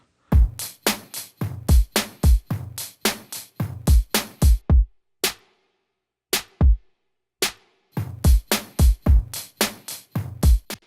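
Lo-fi drum loop built from programmed kick and snare, punchy hits in a steady repeating groove with a short gap of sparse hits midway, loud and close with no voices.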